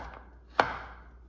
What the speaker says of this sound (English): just chopping them up into smaller pieces